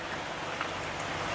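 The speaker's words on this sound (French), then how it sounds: "Il pleut depuis ce matin." Steady rain falls outdoors near beehive colonies, a continuous dense hiss of drops with no pauses or voices.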